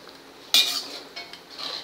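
A spoon scrapes cooked tomato and capsicum out of a metal pan onto onions while making pav bhaji, a sudden clattering scrape followed by a few lighter metallic scrapes and clinks, close and clear with no talk.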